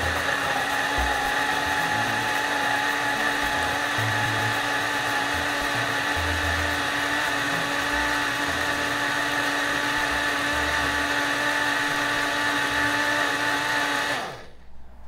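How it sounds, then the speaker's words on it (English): A blender whirs steadily for about fourteen seconds, blending blackberries, blueberries and almond cashew milk into a smoothie, a loud, even motor drone that cuts off abruptly at the end, with no talking. "we'll go ahead and push the blend button"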